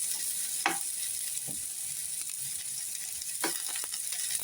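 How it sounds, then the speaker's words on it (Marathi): Chopped onion sautéing in a pan, a bright continuous sizzle with a few soft spatula taps and scrapes, close and moderately quiet. "छान असा आपला कांदा परतला जात आहे"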